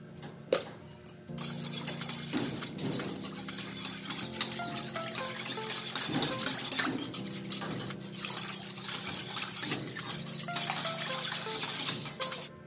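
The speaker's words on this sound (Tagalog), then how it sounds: "Balik tunawin muna natin yung ating asukal at saka yung asin nating linagay." Spoon stirring sugar and salt into liquid in a bowl for homemade pizza dough, giving a steady rhythmic scraping and clinking against the bowl that runs on without talk.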